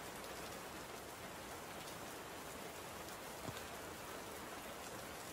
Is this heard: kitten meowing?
no